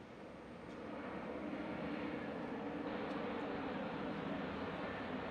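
A Jetstar Airbus A321 lands at Brisbane International Airport in the evening under full reverse thrust, its distant engine roar rising over the first second and then holding steady and broad.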